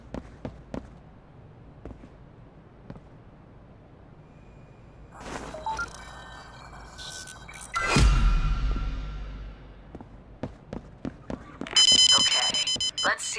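Alarm going off during a heist in the video game Payday 3, a rapid repeating electronic beeping arriving late, after scattered footsteps, thuds and a loud burst of noise.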